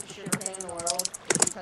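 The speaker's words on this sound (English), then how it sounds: "I'm an extremely fast typer." Rapid typing on a computer keyboard gives brisk clicking taps in quick clusters, with a voice talking underneath.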